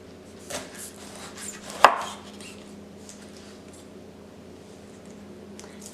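A sharp knife cuts through a pineapple to take off the spiky-leaved crown, giving one firm, close chop with a sharp thud near the middle, then quieter faint rustling.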